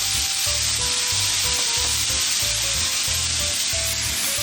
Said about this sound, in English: it looks like I've got a pretty good sizzle here.